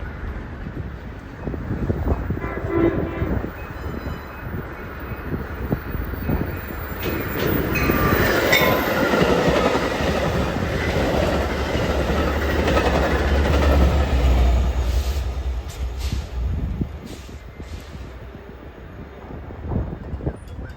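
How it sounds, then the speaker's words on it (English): A Metra Milwaukee District West commuter train, pushed by its locomotive, rumbles through Manheim station at speed, building to a loud roar with rattling wheels and wind, then fading as it moves away. "inbound Metro Milwaukee District West train 2708 hauling through Manheim Station, pushed by Metro 508"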